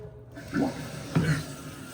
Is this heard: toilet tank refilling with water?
yes